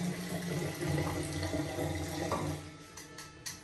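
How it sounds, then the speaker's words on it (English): A hotel bathroom tap runs with low water pressure, a soft steady stream hissing and splashing into the basin, faint and continuous with a few small clicks near the end. "the water pressure is also very low"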